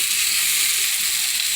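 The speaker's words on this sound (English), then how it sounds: "Boca burger cooking." A Boca burger sizzles in a hot pan, giving a steady, loud, bright hiss of frying that holds evenly from start to finish with no voices.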